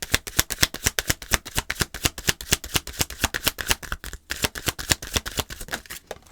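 Oracle cards being shuffled by hand in a rapid, steady run of crisp riffling slaps, close and fairly loud, with a brief pause partway through before the shuffling resumes.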